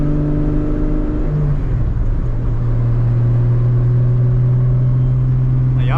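Car engine revving steadily with a deep, continuous rumble and rising hum, loud and close, with no talking over it; the tone is likened to a VQ engine.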